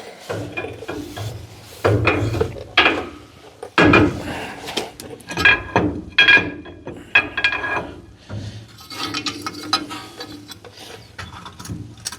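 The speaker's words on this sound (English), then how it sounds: "So then this axle should just slide right in." A rear axle slid into a freshly fitted bearing on a 1964 Chevrolet Biscayne, giving a run of metallic clunks, scrapes and ratcheting clicks, close and uneven, with no talking.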